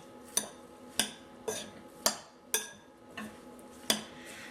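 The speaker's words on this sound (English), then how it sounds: "let's go ahead and give this a stir" A utensil stirs tabbouleh salad in a bowl, giving about seven sharp clinks and scrapes at a steady, unhurried rhythm, close and fairly quiet, with no talking.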